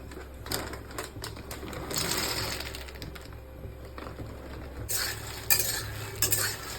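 Fox nuts (makhana) dry roasting in a pan are stirred with a utensil, producing close, continuous scraping and light rattling clatter in uneven bursts over a faint background hiss.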